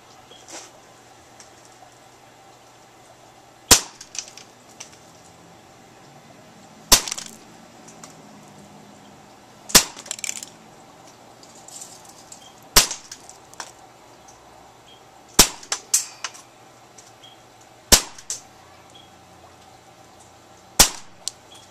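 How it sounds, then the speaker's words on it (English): BB gun fired at a blackberry outdoors near a rock, seven sharp single shots spaced a few seconds apart over a quiet background, close and loud with no talking. "Alright, so here's round 2 with the BB gun."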